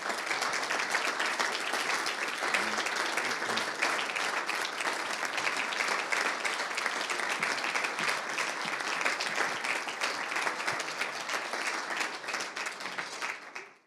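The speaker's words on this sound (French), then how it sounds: "je vous demanderai de chauds applaudissements" Warm, sustained applause from a seated crowd at a formal introduction session, an even wash of many hands clapping for nearly fourteen seconds before cutting off abruptly.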